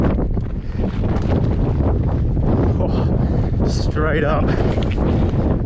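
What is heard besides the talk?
wind during mountain bike ride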